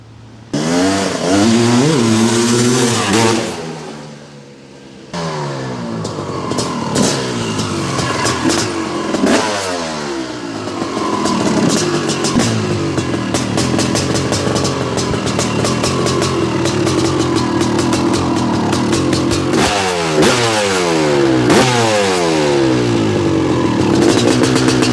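A 1990 Honda CR500R dirt bike engine revs up close, with rising and falling throttle sweeps, a brief dip to idle, then sustained loud revving with no talk.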